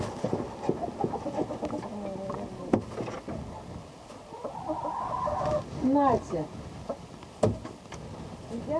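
A chicken clucks in short bursts among bird calls and outdoor noise, with people talking quietly nearby.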